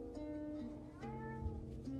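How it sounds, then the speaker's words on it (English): A house cat meows once, a drawn-out call of moderate loudness, over a steady low background hum indoors. "Oh, my cat's calling now."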